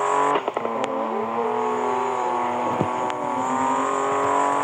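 Car engine in the racing video game Street Pro, revving and accelerating steadily with a rising, sustained whine that stays loud and close throughout, with a few brief clicks early on and no talk.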